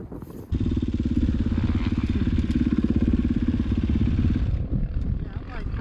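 A dirt motorcycle climbs a steep California hillside in first gear at wide open throttle, its engine roaring loud and close with a rapid pulsing beat before cutting off abruptly.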